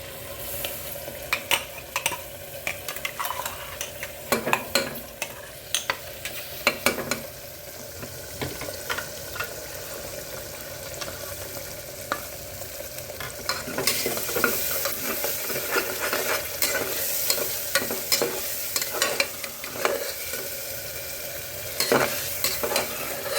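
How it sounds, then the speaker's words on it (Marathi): Masala frying and being stirred in a pan, a steady close sizzle broken by repeated scraping and clinking strokes of the spoon, with no voices. "मसाला चांगला शिजून द्यायचा 5 मिनिटं."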